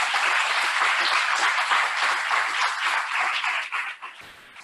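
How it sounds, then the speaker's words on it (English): An indoor audience at a hosting discussion session gives a round of applause, dense and loud clapping that holds steady for several seconds before thinning out and fading at the end. "How about we all give a round of applause to Simon, to Mark, and the people who've kept us well fed."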